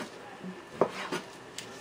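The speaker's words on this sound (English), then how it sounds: "So what I'm doing is I am just chopping." A knife chops raw chicken on a board while cooking chicken pasta, giving a few sharp, separate knocks spread across two seconds, close and moderately loud, with a voice talking faintly underneath.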